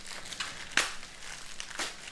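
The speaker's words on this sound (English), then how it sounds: "Rip it open with your hands." A package being ripped open by hand, giving a short burst of close crinkling and crackling plastic or paper, with a sharper tearing snap in the middle and no talking.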